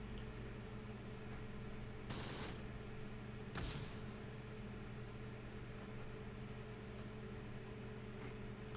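Two short, sharp gunfire reports crack out a second or so apart in the WWII tactics game Close Combat, over a low, steady mechanical hum.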